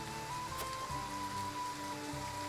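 Rain falling in a Triangle Strategy video game scene, a soft, steady hiss of rainfall heard faintly under sustained musical tones.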